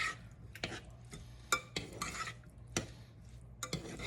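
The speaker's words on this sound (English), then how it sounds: "And stir that up real good." Utensil stirring canned green beans with bacon and onions in a pan, giving a run of scraping, clinking strokes against the metal with a faint sizzle beneath, close and moderately quiet.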